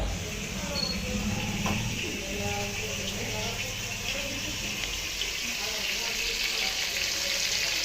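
Two pieces of fish fry in a pan in a home kitchen, giving a steady, moderately loud sizzle with soft crackles throughout, and faint voices underneath.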